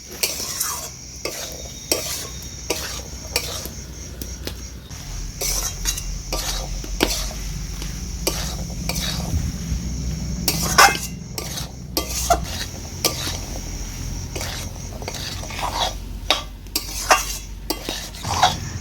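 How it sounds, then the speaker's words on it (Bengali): Boiled rajma cooking in a pan with its cooking water, a low simmering sizzle under constant rhythmic scraping and clinking of a metal spoon against the pan. "এই জলটা দেওয়ার পরে রাজমাটাকে আমি আর একটুক্ষণ কষিয়ে নেব।"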